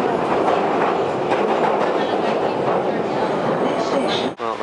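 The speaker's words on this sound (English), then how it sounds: "Going down to the tube or subway and off to downtown London." A London Underground train rumbles loudly and steadily along the tracks, a close, continuous roar with faint clattering, briefly dipping near the end.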